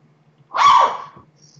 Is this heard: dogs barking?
yes